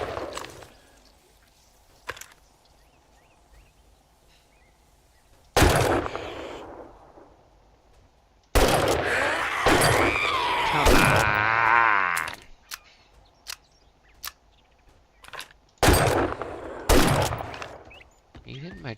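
Shooting in 7 Days to Die on a blood moon night arrives as loud, separate bursts and single cracks between quieter stretches, with people talking at times.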